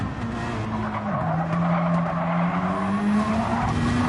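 Porsche and Peugeot GT race cars slide through corners in a racing video game, with a continuous loud engine drone and tire skidding whose pitch dips and rises, no talk over it.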